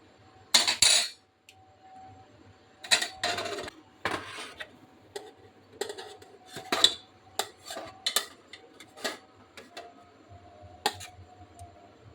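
Steamed paneer momos lifted one by one out of a steamer pot, producing sparse metallic clinks and taps of utensil against metal, close and intermittent with quiet gaps between.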